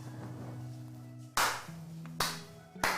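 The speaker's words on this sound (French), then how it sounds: "là je suis en train d'applaudir" One person claps hands, three sharp separate claps spaced over a few seconds, close and loud against a quiet kitchen background with a low steady hum.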